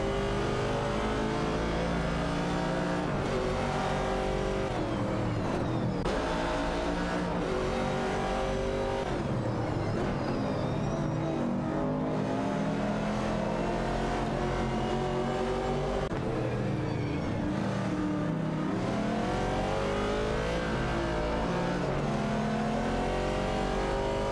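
Race cars, including a 1969 Chevrolet Camaro, roar around a track in a racing video game, a dense, continuous blend of engines revving and droning at high pitch with shifting tones and no pauses.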